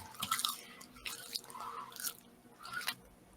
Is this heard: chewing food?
yes